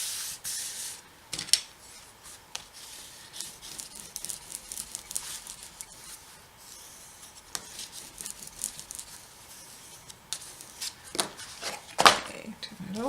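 An ink applicator scrubbing along the edge of a brown paper package cover, a close, dry rubbing in uneven strokes with a few sharper scuffs and knocks, and no talk.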